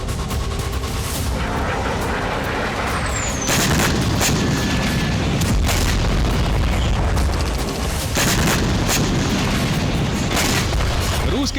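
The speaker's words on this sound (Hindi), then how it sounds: "रूस के इन आत्मघाती ड्रोन से कई धमाके हुए।" Explosions from Russian Shahed suicide drone strikes in Ukraine boom loudly over a continuous roar of rumbling blasts and crackling, sustained and chaotic, with faint voices barely present.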